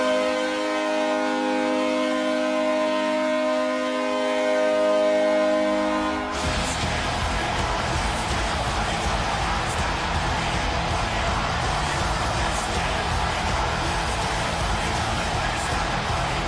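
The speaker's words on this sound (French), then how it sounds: "la sirène de but, encore une fois, c'est une très bonne sirène de but" Pittsburgh Penguins NHL goal celebration: a loud sustained goal siren with steady harmonic tones for about six seconds, then abruptly giving way to loud, dense goal music that runs to the end.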